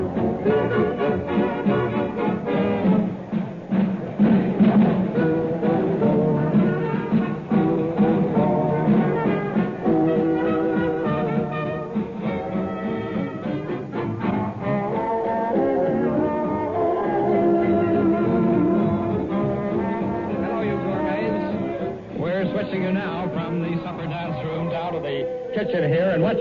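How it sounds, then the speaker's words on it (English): Busy Savoy hotel kitchen in wartime London, 1940, in an old radio broadcast: a dense, continuous clatter of dishes, voices and bustle at steady loudness, with speech woven throughout. "what you're hearing is not excitement because of an air raid, but just the busy orders providing people with meals there"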